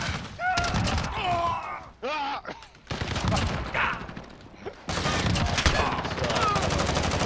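Heavy gunfire from the Modern Warfare video game, bursts of shots and fusillades running through most of the stretch, loud and close, with players' voices shouting over it.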